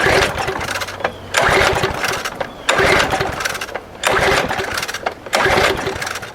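A found lawn mower engine is pull-started and fails to catch: four loud rattling cranking bursts, each about a second long, separated by short pauses, with no run-up afterward.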